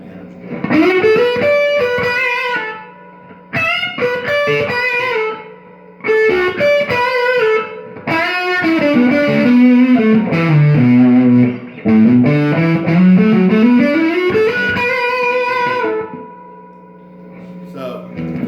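Electric guitar through a Fuzz Face pedal into a Princeton Reverb amp plays loud, sustained sliding phrases with thick buzzing distortion, pausing briefly between runs before ringing out.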